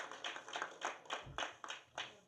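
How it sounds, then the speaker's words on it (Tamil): Audience members at a film press meet for the movie Lost Night clap together in a steady, rhythmic pattern of distinct hand claps, with no other sounds in the room. "ஒரு கிளாப் கொடுக்கலாமா?"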